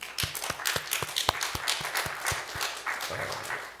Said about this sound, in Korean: 은실자매 우리 한 박수 한번.